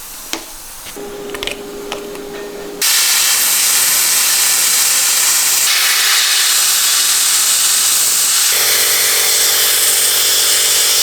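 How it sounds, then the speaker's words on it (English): A cheap handheld plasma cutter slices through a Land Cruiser front axle with a loud, steady, close-up hiss that lasts about eight seconds, after a few short sputters and clicks at the start. "If you guys don't have a plasma cutter yet, you got to go check this thing out"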